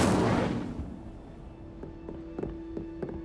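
An Incendio fire spell cast in the Hogwarts Legacy video game bursts out in a loud, broad rush that fades over about a second, leaving a steady hum punctuated by several short, sharp crackles.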